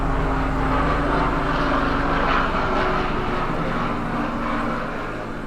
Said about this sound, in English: that's why you hear the helicopter